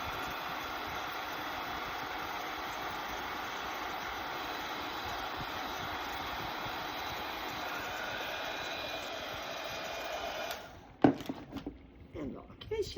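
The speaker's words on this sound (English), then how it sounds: "Just simply get your heat tool out." A heat tool blows steadily on beadwork for a Highland cow beaded breadboard, a loud continuous whooshing roar close by that cuts off near the end, followed by a few handling clicks.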